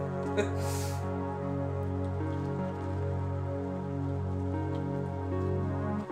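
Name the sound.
rain ambience sample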